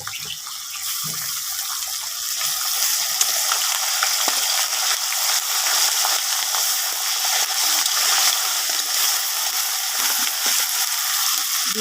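Ginger garlic paste hitting hot oil in a pan, a loud, steady sizzle with bright hissing texture that runs unbroken throughout, plus occasional faint stirring scrapes.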